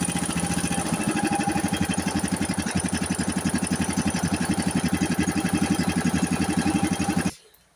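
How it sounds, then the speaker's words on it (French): An MTD lawn tractor engine idles with a steady, rapid thumping beat, loud and close, running evenly for several seconds before cutting off abruptly near the end. "il démarre bien et puis le ralenti, ça va quoi"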